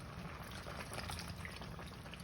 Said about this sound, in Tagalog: Ngayon lalagyan na natin siya ng 7-Up.